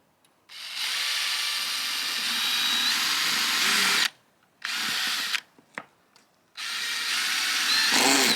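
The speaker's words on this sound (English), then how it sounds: "Now I'm going ahead and I'm starting my screws" Power drill driving screws into boards, several loud close bursts of whirring, a long run, brief pulses, then another sustained drive, separated by short quiet gaps, with no speech.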